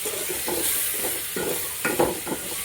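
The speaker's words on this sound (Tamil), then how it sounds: "இதை கொஞ்சம் உப்பு போட்டு சேர்த்து வதக்கலாம்." Tomatoes sautéing with salt in a pan for sambar, a steady close sizzle with soft stirring scrapes and spoon knocks throughout.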